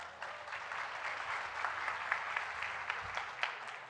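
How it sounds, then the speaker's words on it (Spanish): Audience applause for a volunteer at a conference, a steady wash of clapping from a crowd lasting the whole stretch, moderately loud with no voices over it. "Venga, un aplauso para ella."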